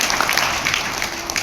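A room of seated attendees at a national orientation event in Indonesia claps steadily in a dense, even wash of applause that fills the whole moment.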